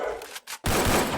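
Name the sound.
gunfire in a battle royale video game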